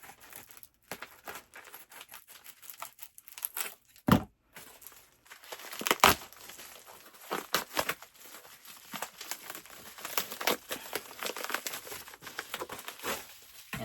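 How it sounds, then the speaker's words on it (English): A cardboard package with bubble wrap is cut and opened nearby: quiet crinkling, tearing and rustling with scattered sharp crackles and thumps, irregular and fairly soft. "So I will cut this open now."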